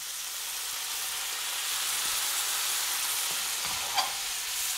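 Pork fat and meat frying in a pan as a splash of dry white wine goes in for tagliatelle all'Amatriciana, an even hissing sizzle with faint stirring taps and no speech.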